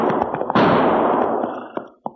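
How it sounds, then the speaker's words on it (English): Gunshots in a 1949 frontier-town western radio drama: a few sharp cracks, then one loud reverberant blast trailing off over a second and a half, with two quick pops at the end. "Not only did I hear those gunshots, Cherokee, but now I can see where they came"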